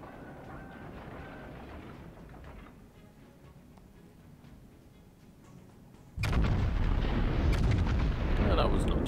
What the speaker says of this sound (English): we fired a salvo at her bow